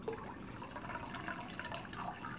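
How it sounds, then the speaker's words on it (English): Acid water is poured into a coffee cup, giving a steady, soft liquid trickle and splash that runs through the whole moment at low level with no one talking. "Pouring in some acid water."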